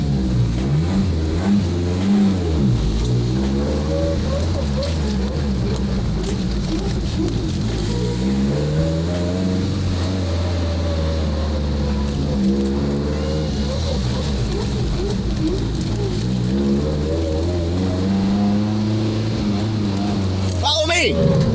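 A Ferrari's engine revs and pulls hard, its note rising and falling in repeated sweeps through a continuous loud drone while people talk and shout excitedly over it.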